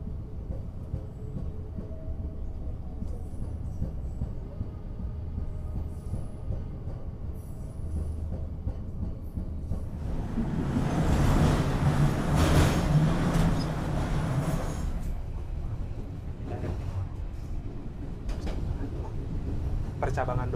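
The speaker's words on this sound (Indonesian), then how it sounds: "itu dia yang sudah masuk kereta komuter lain" A commuter train rumbles past with a rising rush of rolling noise that peaks and fades, with faint rattling and people talking softly in the background.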